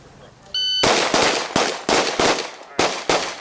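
Pistol shots at an indoor shooting range: a beep, then a rapid string of loud, sharp close reports with a short pause before the last shots.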